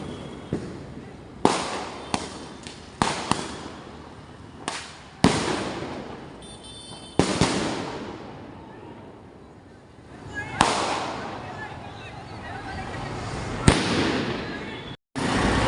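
Diwali fireworks bang and crackle in a series of sharp bursts, some loud and close, with crowd noise and voices in between.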